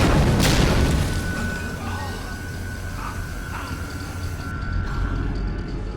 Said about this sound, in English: shoot an explosive barrel to take out a few guards at once